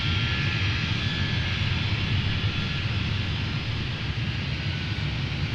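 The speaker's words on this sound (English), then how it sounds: "there's the KC-135 doing its thing" KC-135 tanker aircraft passing overhead at the Seafair air show, a steady broad jet roar that stays loud and even throughout with no voices.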